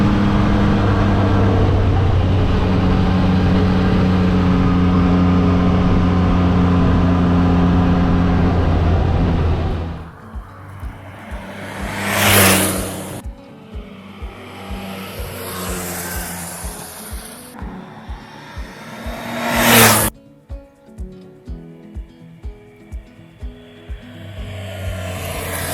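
A Yamaha MT-09 motorcycle rides through redwood forest, its engine droning steadily before dropping to a lower, choppier idle-like rumble with a couple of loud rising revs and rushing air, no talk.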